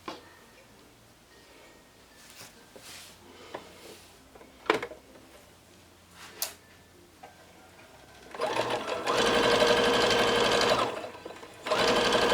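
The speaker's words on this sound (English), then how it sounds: "So that's the side seam stitched together" Domestic sewing machine running a steady fast stitch along a dress side seam, loud and close after several seconds of faint light clicks and handling.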